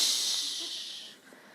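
Bright hissing fizz as a bottle of Coca-Cola is opened, a strong close rush of carbonation that fades over about a second with no talking.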